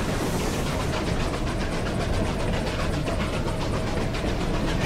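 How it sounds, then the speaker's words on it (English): Steam train rolling past in a Desperados III cutscene, a steady loud rumble with a rhythmic clatter of wheels on the rails, continuous throughout with no talk. "Here comes the train."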